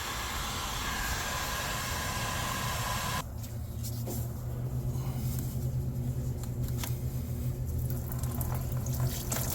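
Engine fluid from a 2005 Ram 1500 5.7L HEMI drains into a drain pan, a steady liquid pour with a broadband hiss that shifts partway through to a lower, gurgling stream, continuous and close.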